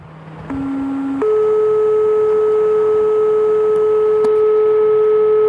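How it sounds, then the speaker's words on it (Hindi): A steady pure test tone hums continuously, stepping up in pitch twice early on, then holding level and loud with faint clicks. "अब आप सुन सकते हैं एक पर्टिकुलर साउंड आ रही है, बीप जैसी।"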